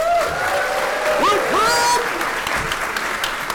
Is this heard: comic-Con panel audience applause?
yes